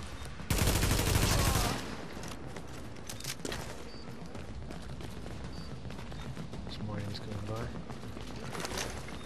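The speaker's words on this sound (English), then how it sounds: "You're getting shot from far away." Gunfire in The Division's Dark Zone: a loud burst of rapid shots at the start, then scattered distant shots and game noise continuing through the rest.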